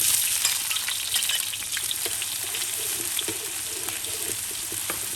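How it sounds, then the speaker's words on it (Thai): Shallots and garlic fry in hot oil in a pan, a dense steady sizzle with light crackles and occasional stirring taps, close and continuous with no speech. "เจียวหอมแล้วก็เจียวกระเทียมให้เหลืองค่ะ"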